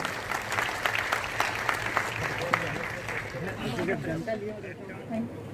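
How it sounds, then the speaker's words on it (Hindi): Audience at a startup conclave in Bihar claps hard for the state's entrepreneurs, with dense applause early that thins out while crowd murmur and voices come through toward the end. "हमारे राज्य के सभी सफल उद्यमियों के लिए, स्टार्टअप्स के लिए जोरदार तालियां बजाएं"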